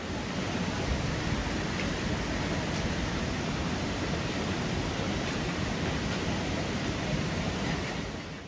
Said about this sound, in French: je vais vous faire voir, c'est une petite cascade.